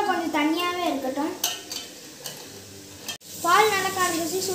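A spoon stirs sugar syrup with cardamom powder in a pan, scraping and clinking against the metal over a soft sizzle, with a voice talking throughout.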